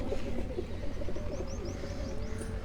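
A single pigeon held in a man's hand coos softly in low, rolling bursts, fairly faint over steady background noise, with a few brief higher chirps from other birds.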